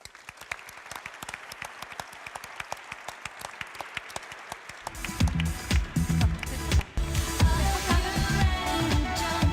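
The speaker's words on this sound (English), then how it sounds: "So a big applause." An award ceremony audience in Brussels bursts into applause, starting as steady rhythmic clapping and swelling into a loud, dense ovation with music joining in partway through.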